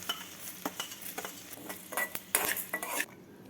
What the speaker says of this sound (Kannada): ಫಸ್ಟು ಸ್ವಲ್ಪ ಉದ್ದಿನಬೇಳೆನ ಹುರ್ಕೋಬೇಕು